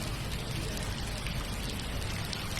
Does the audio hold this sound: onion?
no